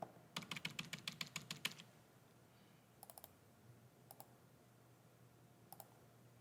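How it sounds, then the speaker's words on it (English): Calculator keys are pressed while numbers are entered, with a quick run of about a dozen crisp clicks, then a pause and several short, separate groups of taps, close and fairly quiet. "And we'll type that in."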